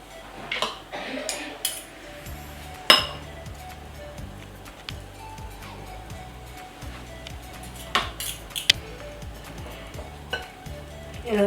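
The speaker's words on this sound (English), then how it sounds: "I'm gonna use a fork and my knife." Fork and knife clinking against a plate while handling shredded cabbage, with sharp scattered metal taps over a steady background hum and occasional speech.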